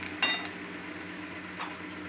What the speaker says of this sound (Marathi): मस्त असं थोडंसं तेलावरती फ्राय करून घ्यायचं मसाल्याने।